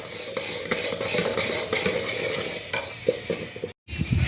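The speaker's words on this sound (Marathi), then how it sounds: "असं आता ते बारीक करून घेईन मी चमच्यानीच." A spoon works through lumpy mango pulp for mango polis, giving a steady run of soft stirring scrapes and light clinks against the vessel, close up, with a brief silent gap near the end.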